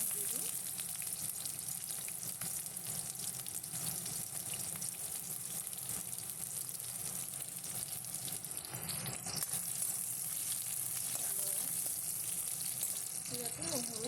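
Onions frying in hot oil in a home kitchen, a steady dense sizzle running the whole time at moderate level, with faint clatter near the end.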